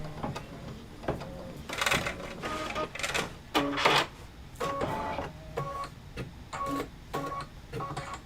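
An embroidery machine stitches quilting into a pieced block for a Sweet Land of Liberty pillow in one hooping, a soft mechanical whirring in bursts with brief pauses and light clicks, close and fairly quiet.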